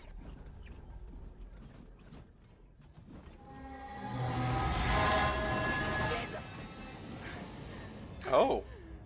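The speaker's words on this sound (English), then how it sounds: "There's a train?" A train rumbles past in the sci-fi horror game Alien: Isolation, its clattering mechanical roar swelling mid-clip then fading, with creaks and a sharp metallic screech near the end while a person talks over it.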